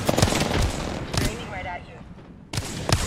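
Video game gunfire from a team shooting match: three short, sharp volleys of rapid shots separated by quieter gaps, each burst loud and close.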